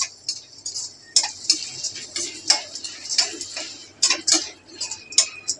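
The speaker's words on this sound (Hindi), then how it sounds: "थोड़ा सा मिक्स कर लेंगे पॉपकॉर्न को" Popcorn is stirred in a pot in a home kitchen, producing irregular close-up clinks, rattles and scrapes of kernels and utensil against metal, coming in quick uneven bursts.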